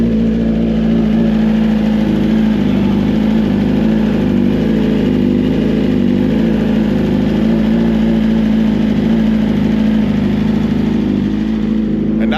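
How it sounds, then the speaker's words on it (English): A BMW S1000RR sport motorcycle engine runs at a steady idle, a continuous close mechanical hum with a faint rhythmic pulse and no talk. "So you can turn on your bike."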